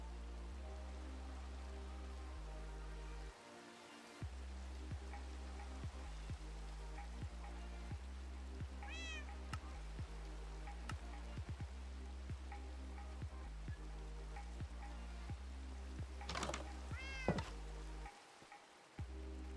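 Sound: cat meowing

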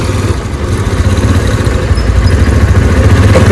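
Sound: motorcycle engine idling after a long ride

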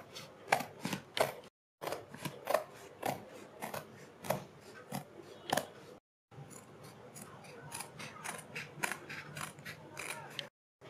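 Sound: cutting kurti fabric along marked neck design

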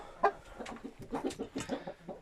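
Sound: young rooster clucking

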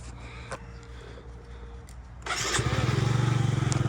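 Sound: Yamaha Jog scooter engine started with electric button

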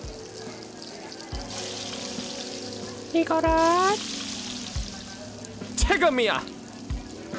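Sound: food sizzling while frying in a cooking video game

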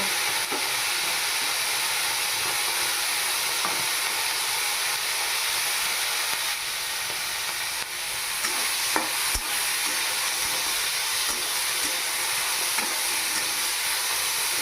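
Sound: marinated shrimp frying in hot mustard oil

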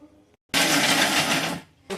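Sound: mixer grinder grinding dry coconut

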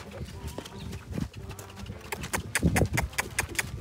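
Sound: horse foal hooves clip-clopping while walking

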